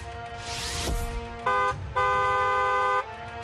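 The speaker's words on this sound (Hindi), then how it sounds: "हॉर्न बजाना जरूरी है" A vehicle horn honks twice close by, a short blast then a longer steady one, following a brief whoosh of passing traffic.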